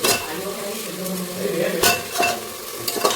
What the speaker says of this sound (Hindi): एबे म आलू पकई दउची म एटी कंचा आलू पकईली